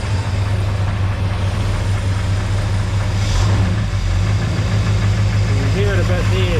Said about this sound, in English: A little bit of a rattle there, but it just sounds like normal rocker stuff.